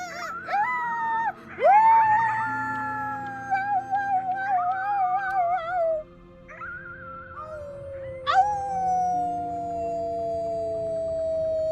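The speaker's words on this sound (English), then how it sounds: "You howled at the moon, at the top of your lungs." A child's howl at the moon in the game Before Your Eyes, heard as several long, wavering, wailing howls rising and sliding down in pitch, loud and close over a quiet musical background.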